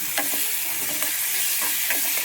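Curry leaves sautéing in hot oil in a pan for a quick egg curry, a dense continuous sizzle and hiss close up with a few light stirring scrapes, no talking.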